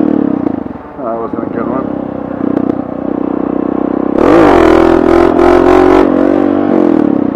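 Dual sport motorcycle revs hard from about four seconds in as the rider pulls a wheelie on urban streets, a loud rising engine roar with rattling mechanical noise, while a rider talks over the idle and the engine.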